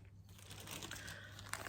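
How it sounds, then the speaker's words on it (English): A plastic project bag holding knitting is handled close by, with a soft continuous crinkling and rustling that runs throughout and a slightly sharper crackle near the end. "this is a little bit crinkly. You'll have to forgive me, because it's in a very boring plastic bag"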